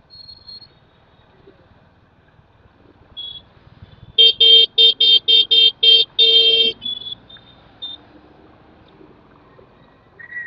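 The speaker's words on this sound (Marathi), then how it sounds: "पहिल्यांदा असं ट्रॅफिक दिसत आहे।" A rapid run of about seven short, loud horn blasts cuts through a quiet road background, followed by a few scattered fainter beeps.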